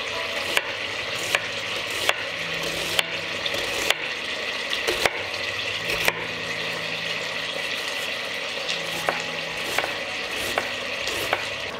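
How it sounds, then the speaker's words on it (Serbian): Schnitzels frying in a pan give a continuous bright sizzle, punctuated by regular sharp taps and clicks of a utensil against the pan, with no voices. "Šnicle ću pržiti po nekoliko minuta sa obe strane."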